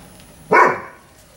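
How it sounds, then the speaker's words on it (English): A dog gives one short, loud bark-like howl up close that rises sharply and then trails away within a second, against a quiet outdoor background. "This character here was howling and howling because you could hear the other dog howling"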